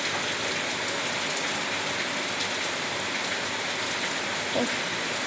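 Continuous downpour drumming on surfaces nearby, a thick even wash of rain without any talking.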